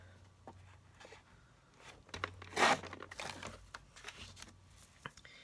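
Card stock sheet being cut for card making, a burst of papery crunching and slicing near the middle, brief and close, with faint rustling before and after and no talk.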